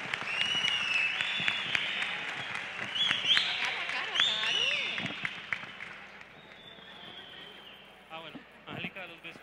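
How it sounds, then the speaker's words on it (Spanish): Audience applause at an awards ceremony, a dense wash of clapping with whistles and voices mixed in, steady for several seconds before thinning out near the end. "Un aplauso, un aplauso,"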